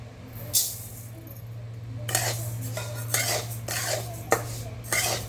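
Rice dry-roasting in a pan for thalipeeth bhajani flour, a spatula scraping and stirring the grains in a series of distinct, fairly close strokes over a steady low hum, with no talking.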